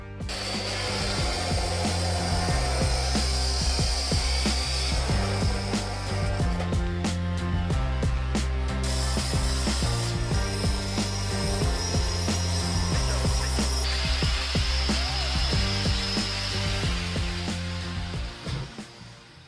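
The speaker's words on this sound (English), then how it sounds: "We're gonna cut them to size using our little chop saw" A small chop saw cuts metal pieces to size for a car build, a loud sustained motor whine with repeated grinding cuts rising and falling throughout, no talking.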